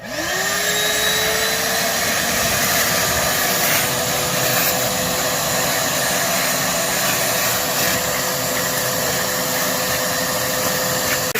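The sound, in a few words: shop vac sucking water from the pond bottom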